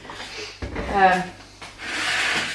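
Dirt is scraped off pans during oven cleaning, with a few short, rough rubbing scrapes heard close up while a voice talks over part of it.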